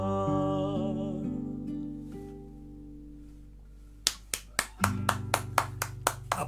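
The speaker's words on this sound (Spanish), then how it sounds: "Aplaudo" Hand claps at a live-stream music performance, starting as the sung song ends with sustained notes: a series of about ten sharp, evenly spaced claps, loud and close, over lingering instrumental tones.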